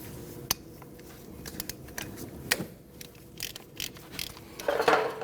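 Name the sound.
ratchet loosening 14mm brake hose bolt on Honda CR-V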